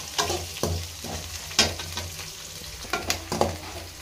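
Onions and bottle gourd fry in a pan while being stirred, with repeated scraping strokes of a spatula over a continuous sizzle, several distinct stirs at irregular intervals and no voices.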